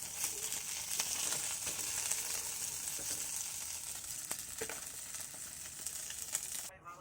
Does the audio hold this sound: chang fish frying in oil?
yes